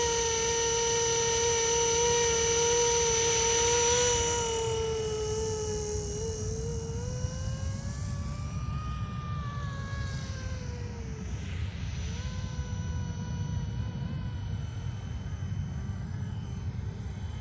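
A Roban EC-145 V2 RC scale helicopter flies on its maiden flight, giving a steady, fairly quiet hum with whining rotor and motor tones that rise and shift in pitch as it hovers. No one speaks.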